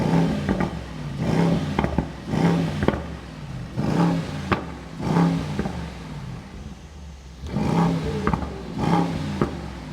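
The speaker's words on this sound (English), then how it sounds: "now you can actually rev the car and enjoy the sound of the V8" A Mercedes-AMG GT63 E-Performance hybrid V8 blipped repeatedly with the exhaust valves fully open, giving about eight sharp revving bursts at an even pace, each a loud rasp that quickly falls away, with a short quiet gap before the final pair.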